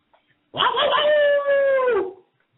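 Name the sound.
man imitating a ginger cowboy howl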